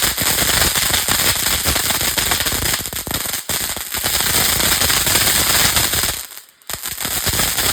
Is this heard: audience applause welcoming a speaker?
no